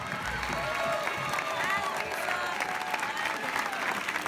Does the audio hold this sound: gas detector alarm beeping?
no